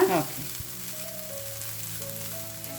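Ginger garlic paste and spices fry in a pan with a close, steady sizzle. A brief louder crackle opens it, then a continuous frying hiss carries on with faint stirring.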